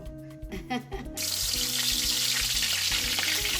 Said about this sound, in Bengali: আমার তেলটা গরম হয়ে গেছে তো আমি মাছগুলোকে হালকা একটু ভেজে নেব